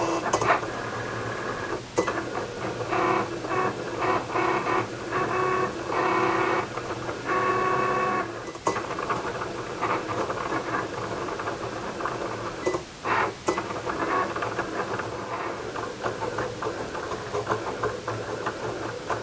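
A Cricut cutting machine cutting glitter flake loaded on a cutting mat, giving a steady motorized whir with repeated carriage movements, rhythmic ticks and faint clicks, heard alone and fairly close.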